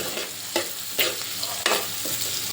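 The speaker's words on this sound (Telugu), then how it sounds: "ఇవి ఉల్లిపాయలని కొంచెం మంచిగా గోల్డెన్ కలర్లో బ్రౌన్ కలర్లో వచ్చేటట్టు వేయించుకోండి" Sliced onions fry in hot oil for a spicy egg gravy curry, a steady close sizzle broken by several sharp scraping stirs of a spoon in the pan, with no voices.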